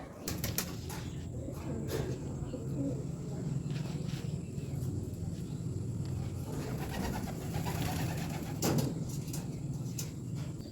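Low coos from fantail pigeons, one with a chick, repeat over a steady background hum, with occasional clicks and soft wing or shuffling sounds.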